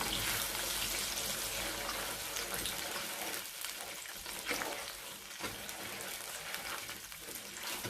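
Sugar for makhandi halwa sizzles and crackles in hot oil as a spoon stirs it continuously, a dense, steady frying hiss with occasional scraping.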